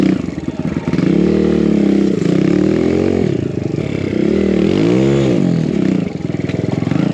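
A BBR KLX170RF dirt bike climbs an icy riverbed, its engine revving up and down in repeated rising and falling sweeps, loud and close, with scraping and clattering from rocks underneath.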